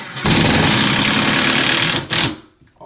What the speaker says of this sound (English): the last one we're going to screw in here to get us all the way in place